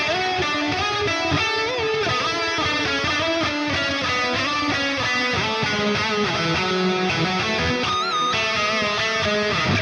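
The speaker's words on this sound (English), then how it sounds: "we'll move to that neck pickup position only, and that's gonna sound like this." A Sterling Majesty electric guitar on its neck pickup alone plays a rapid, unbroken lead passage, loud and close, with dense runs of notes and steady sustain throughout.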